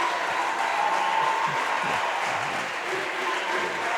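Fans in a college arena applaud after a women's NCAA Division II basketball tournament win, a steady, dense wash of clapping from a sizable crowd that holds at an even level throughout.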